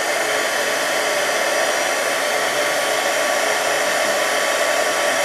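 An embossing heat tool blows hot air to melt embossing powder on a card, a loud steady airy whoosh and motor hum running unbroken throughout, close up with no talking.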